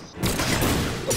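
Cannons firing in the Brawlhalla fighting game, a dense burst of booming shots running nearly continuously for about a second at moderate level, with no speech.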